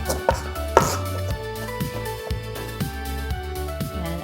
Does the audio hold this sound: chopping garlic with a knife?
yes